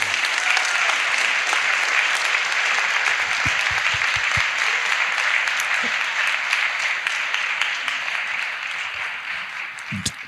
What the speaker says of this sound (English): Let's give all of our candidates a hand clap.